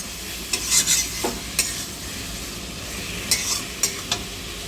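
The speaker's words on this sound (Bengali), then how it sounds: "এবার নাড়াচাড়া দিয়ে জল দিয়ে দেবো" Bottle gourd cooking in a pan for a Bengali-style fish curry, stirred with a spatula: a soft steady sizzle with several sharp scraping clicks in two short bursts, close and without talk.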